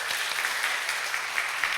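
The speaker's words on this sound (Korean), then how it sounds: "우리 하나님께 영광의 박수 올려드립시다." A church congregation at a Sunday worship service claps together in a steady, dense wash of applause that holds evenly for the whole moment, moderately loud and without speech.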